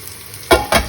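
Chopped onion sautéing in hot oil: a quiet background hiss, then two loud bursts of sizzle and scrape as the onions are tossed or stirred, no one talking.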